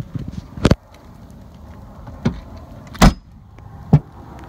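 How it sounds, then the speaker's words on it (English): Van door slammed hard to shut, with several sharp bangs spread over a few seconds amid faint rattling and handling noise, close by and with no talk. "you have to slam the door real hard to make it close all the way"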